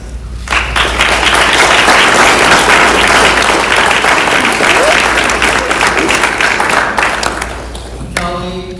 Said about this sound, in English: if you would give each one of them a round of applause